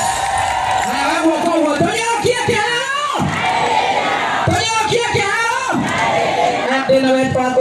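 A crowd at a Kenyan political gathering for Ndindi Nyoro erupts in loud, sustained cheering, whooping and shouting, with surges around a brief lull midway and excited voices throughout.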